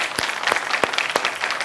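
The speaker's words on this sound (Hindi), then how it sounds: "जोरदार तालियां तमाम मेहमानों के लिए।" Studio audience claps for the guests of a televised debate show, a brief loud burst of applause with a few sharp individual claps standing out.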